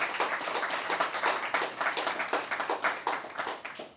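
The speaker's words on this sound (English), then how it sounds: "Big round of applause," A small audience at a film festival programme launch claps in a fairly quiet, scattered way, with distinct individual hand claps rippling in an uneven rhythm at moderate distance.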